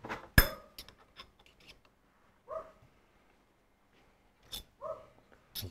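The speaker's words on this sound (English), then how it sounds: "Kelly dog's having a bark." A dog barks outdoors on a rural property with a paddock, a few short separate barks spaced apart, moderately close and alone with no talking.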